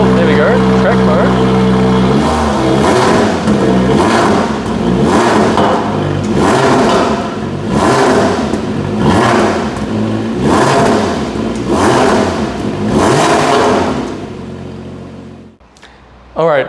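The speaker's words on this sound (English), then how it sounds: "Has a really nice V6 sound." A Lotus Emira's V6 engine in track mode revs repeatedly from standstill, about six loud, close blips rising and falling in a steady rhythm over a lumpy idle before the engine cuts off, with a voice talking over it.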